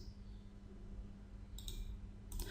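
Computer mouse clicking an on-screen OK button: two faint, brief clicks over a low steady hum, no voices.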